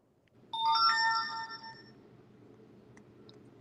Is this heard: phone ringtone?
yes